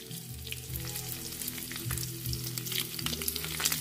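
Fried eggs cook in an onion in a hot pan, giving a loud, continuous close-up sizzle and crackle with no voices.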